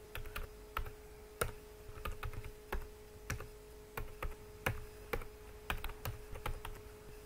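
Quiet, close typing on a computer keyboard while entering data in an Excel spreadsheet, with irregular clusters of clicks and a few sharper key strikes over a faint steady hum. No one speaks.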